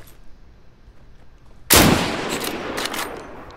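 A single loud gunshot cracks out in the Deadside video game after a quiet stretch, its sharp blast trailing into a ringing, noisy echo.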